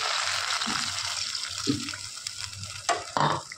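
Water added to a pan of chilli chicken sauce in tomato sauce, a brief burst of sizzling hiss with a couple of splashy surges near the end over a low steady frying background.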